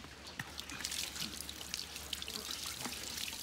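Water pouring and splashing out of an automatic pig feeder, a steady rushing trickle with scattered drips and splats, moderately loud and continuous throughout, with no talking.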